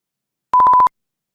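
A single sharp electronic beep, pulsing rapidly for about a third of a second in an otherwise silent moment.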